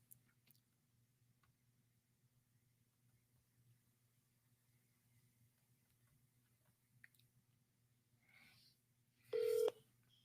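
A phone number is dialed to call a seller, with a brief, loud burst of keypad tones near the end after several quiet seconds of faint handling sounds.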